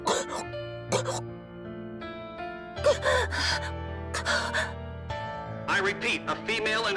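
A female character in the video game NIKKE coughs up blood: a series of wet, strained coughs, gasps and throat clearing that come in several bursts over a sustained musical background.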